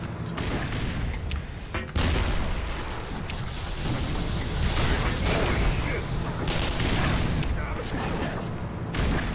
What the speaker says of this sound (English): You think I could kill the tank with just grenades?